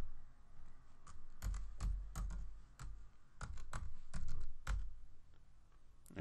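Password being typed on a computer keyboard during a Python virtualenv setup: a run of close, uneven key clicks, several louder taps clustered together, with no speech.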